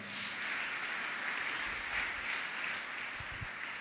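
A church congregation at a French-language prayer service breaks into applause, a dense, steady clapping that fills the room evenly for several seconds at moderate distance.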